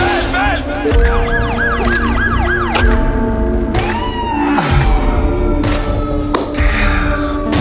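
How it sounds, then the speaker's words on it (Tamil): An ambulance siren wails with rapid rising and falling sweeps in a film song's fight scene, loud and near, mixed over music with other sustained tones and sharp hits. "ஆம்புலன்ஸ் சத்தம் வருது, ஏதோ ஃபைட் சீன் போல படத்துல."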